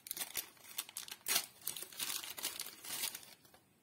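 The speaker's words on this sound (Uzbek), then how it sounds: "Shpris ochamiz." Foil and paper packaging is peeled and crinkled open to free a new syringe for chocolate work, a close run of sharp rustling bursts and small tearing sounds.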